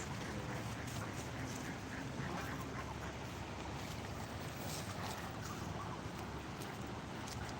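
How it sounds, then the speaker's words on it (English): Ducks quack by the water, a steady outdoor wash of broadband noise with short calls scattered throughout and no talking. "Here's some ducks down here by the water."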